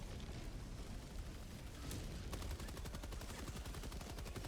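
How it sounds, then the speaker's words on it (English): Automatic gunfire in the video game Helldivers 2, heard as a rapid, steady rattle of shots over a dense, rumbling battle background, moderately faint in the mix. "Automatic gunfire."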